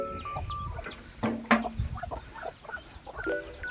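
Rhode Island chickens, a mother hen with her young chicks, soft repeated clucks and thin high peeping close by, with a slightly louder cluck in the middle over a quiet farmyard background.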